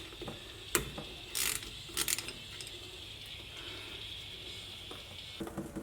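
A ratchet works a 15 mm bolt loose on a Jeep Gladiator during a steering box swap, giving short bursts of fast clicking separated by quiet pauses in a shop.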